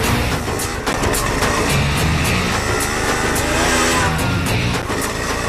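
A car overtakes on the road, its engine droning loudly and continuously up close, with a brief dip and rise in level.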